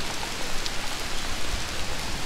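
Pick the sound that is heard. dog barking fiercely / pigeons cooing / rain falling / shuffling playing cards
rain falling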